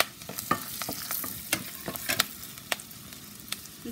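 Chillies, curry leaves, pepper, cumin and cashews fry in a pan, a steady sizzle broken by sharp scraping stirs and taps of the spoon at an irregular pace.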